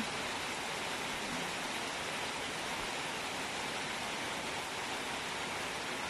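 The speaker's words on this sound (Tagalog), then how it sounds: "It's raining again." Steady rain falls outdoors near a vegetable garden, a dense, even hiss of drops that stays constant and fairly close for the whole stretch, with no talking.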